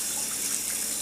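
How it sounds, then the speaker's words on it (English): Tap water runs steadily from a faucet, rinsing whole green onions for kimchee, a continuous bright hiss and splash close by with no voices. "Hold the open ends under running water"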